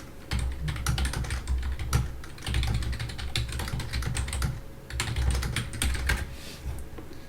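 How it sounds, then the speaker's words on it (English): Loud, clacky mechanical computer keyboard typed steadily at close range, with dense rapid keystroke clatter in bursts and brief pauses, during a PC gaming session. "I apologize if my keyboard is loud. I like my clacky keys."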